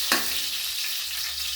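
Onion and garlic hit hot oil in a pan for chicken adobo, setting off a sudden loud sizzle that settles into a steady, close crackling hiss with no voices.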